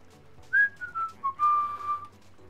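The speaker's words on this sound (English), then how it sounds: "Wait, it doesn't catch me whistling." A melodic whistled tune in the video game Bugsnax, a short run of clear sliding notes rising and falling over about two seconds against a quiet background hum.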